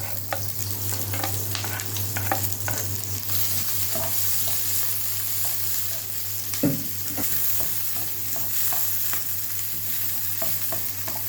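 Onion wedges sizzle loudly in a small amount of hot oil while a utensil scrapes and stirs through them with repeated short clinks over a constant low hum.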